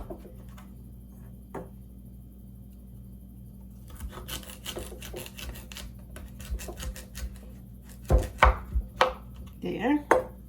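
A knife slices downward through chunks of sweet potato on a board, a run of close crisp cuts that turns louder and heavier near the end, with small handling noises and no talk.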